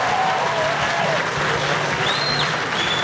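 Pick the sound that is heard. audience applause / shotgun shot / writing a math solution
audience applause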